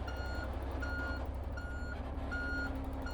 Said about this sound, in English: It's me reversing the truck.